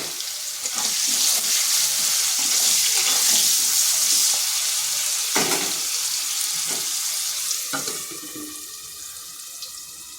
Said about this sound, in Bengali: এখানে কড়াইতে তেল দিয়েছি, এরপর আলুগুলো ভেজে নিচ্ছি।